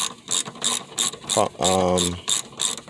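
Rapid ratchet wrench clicks come in quick bursts with brief pauses while tightening during an alternator replacement on a 2006 Kia Spectra; close, loud metallic pawl ticking with a short tonal squeak in the middle.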